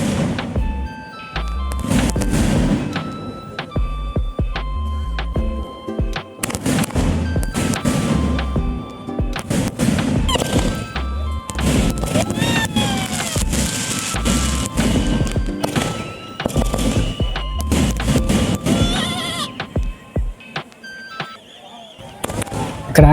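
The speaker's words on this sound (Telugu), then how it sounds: "ఈ షార్ట్స్ అయితే డిఫరెంట్ కలర్స్లో పైకి వెళ్ళిపోయి పేలయ్యి." Festival fireworks shots launch and burst in different colours at a village jatara, a dense run of loud cracks and whistling rises with crowd noise and talk in between.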